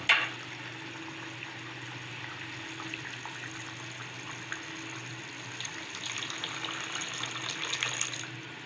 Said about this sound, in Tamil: ஊற வச்ச புளியை கரைச்சி புளி தண்ணியை சேர்த்துக்கலாம்.